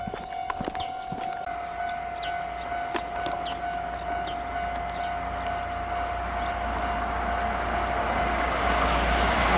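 Kintetsu railway level crossing bell ringing steadily as a continuous warning tone, loud and close, with a low rumble and scattered clanks beneath it and no talking.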